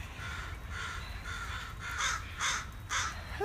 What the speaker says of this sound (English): We have complaining crows.